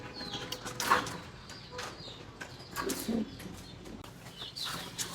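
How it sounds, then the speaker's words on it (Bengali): Pet pigeons kept for sale, including Royal Teddy birds, coo softly in a few low bursts with faint fluttering and background chatter in a loft. "এখন আপনাদের ভিতরে কিছু কবুতর দেখাবো, ওইগুলো সেল হবে"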